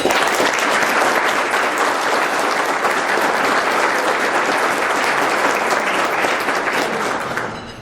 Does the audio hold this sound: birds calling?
no